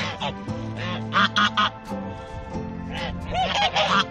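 Hungry geese honk and quack close by, a loud overlapping chorus of calls in quick bursts as they clamor for food on a small farm kept with hens.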